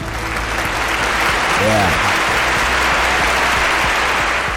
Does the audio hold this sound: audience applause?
yes